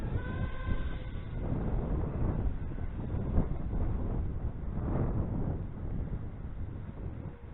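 Wind buffets the microphone during an FPV flight of an Emax BabyHawk R Pro 4-inch racing drone, a loud, continuous low rumble with irregular gusty swells throughout.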